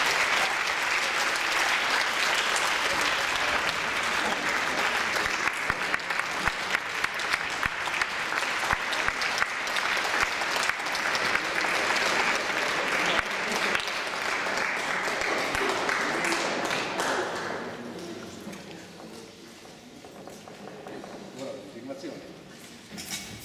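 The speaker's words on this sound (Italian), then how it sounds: "vi pregherei di fare un applauso alla banda musicale" A concert audience applauds a wind band, Banda San Gottardo di Barghe with the Corpo Musicale Renzino Betta. Dense, steady clapping fills the room for about seventeen seconds, then quickly thins and fades to a quieter tail.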